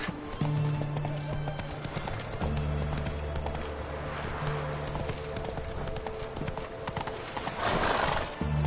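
Horse hooves clip-clop steadily in The Witcher 3, a rhythmic trot close by with a neigh, under game ambience and music, no talk.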